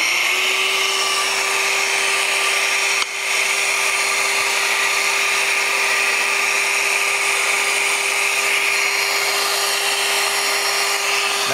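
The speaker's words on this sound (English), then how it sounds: "So we'll turn the vacuum back on." A shop vacuum hooked to a power tool while building an artsy picture frame runs as a steady, loud whine with a constant tone, a brief dip near the start, then continuous droning alone.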